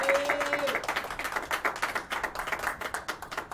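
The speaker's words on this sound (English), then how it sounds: "You can applaud for her." Scattered clapping from a small live talk-show audience, a quick patter of hand claps that starts thin and stays fairly light, with a brief sustained tone fading out at the very start.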